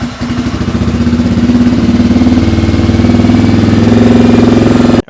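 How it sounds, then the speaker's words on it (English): A 1994 Honda XR650L single-cylinder motorcycle engine idles steadily and loudly up close, a continuous low throbbing rumble with a faint rhythmic pulse, running alone without talk until it cuts off abruptly at the end. "got the bike started up after whacking the old CDI"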